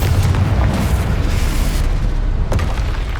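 A Confringo fire spell blasts in Hogwarts Legacy, a loud, deep rumbling boom that rolls on for a few seconds, with a sharper crack near the end.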